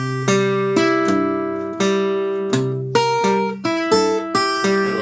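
A guitar plays two A bars of a tune with a bass line. Plucked notes and chords ring out in a steady, even rhythm, close and clear, with no voices.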